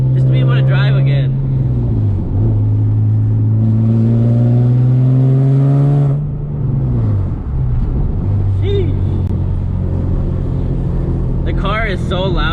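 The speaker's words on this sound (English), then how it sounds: "ever since we did the freaking headers and the non-resonated test pipes, this thing is like super loud." Loud engine of a Nissan 370Z fitted with headers and non-resonated test pipes, droning and shifting pitch as the car drives through gear changes, with rising revs near the end and wind buffeting.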